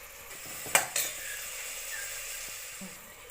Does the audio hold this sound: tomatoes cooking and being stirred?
yes